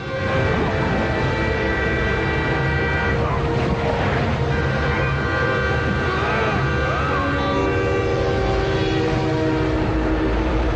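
A loud, continuous rumble of a train in motion plowing through snow-filled mountain passes in Colorado, with sustained horn-like tones layered over the steady roar throughout.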